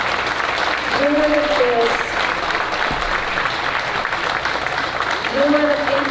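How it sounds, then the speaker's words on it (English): An audience at a school revue celebration applauds steadily and loudly throughout, a dense wash of clapping that continues while someone speaks over it through an amplified sound system. "Give yourself a round of applause."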